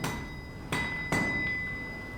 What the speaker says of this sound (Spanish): el rítmico golpe del martillo sobre el hierro incandescente